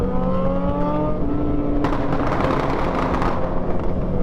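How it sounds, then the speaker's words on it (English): A Suzuki sport motorcycle revs with a rising engine tone, then its exhaust pipes fire off in a rapid crackling volley of pops, loud and close. "Y'all hear those pipes firing off."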